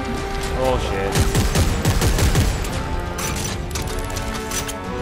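Rapid bursts of gunfire in the sci-fi shooter Dead Space 3 during a chapter boss battle, loud repeated shots clustered in the middle over a dense, roaring game soundscape, with no talk.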